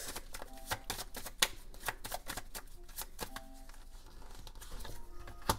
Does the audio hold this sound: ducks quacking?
no